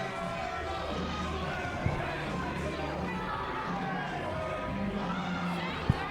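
Wrestling crowd jeering a wrestler at an indoor club event, a steady murmur of voices and calls with scattered louder shouts, heard from a distance.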